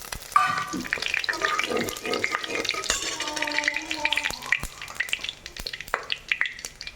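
Cinnamon, mace, cardamom, black stone flower, star anise and bay leaves crackle in melted butter in a pan, a busy close sizzle with sharp pops and spoon clicks as they are stirred.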